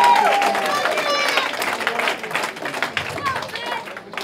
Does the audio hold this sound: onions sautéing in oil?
no